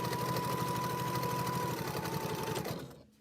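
A sewing machine runs steadily as it stitches green fabric onto purple fabric, loud and close with a fast, even whir that carries for nearly three seconds before stopping abruptly.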